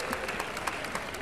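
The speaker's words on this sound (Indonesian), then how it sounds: "Ya boleh tepuk tangan dong di channel YouTube-nya Atta." Audience applause during an Indonesian interview show: steady, dense clapping from a crowd, with small rhythmic swells across its brief span.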